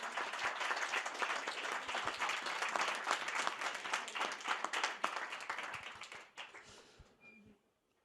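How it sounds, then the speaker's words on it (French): An audience at a French building-trades event applauds, a dense, steady wash of clapping from a crowd in a hall that carries on for several seconds before thinning out and fading to scattered claps. "Je pense qu'on peut applaudir la CAPEB."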